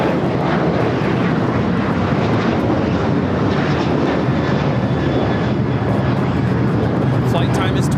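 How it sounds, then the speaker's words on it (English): A Turkish Airlines Boeing 777-300ER jet arriving from Istanbul at LAX gives a steady, loud broadband engine roar that holds throughout with wind buffeting and people talking over it. "Turkish, the 777 at 300 ER coming from Istanbul"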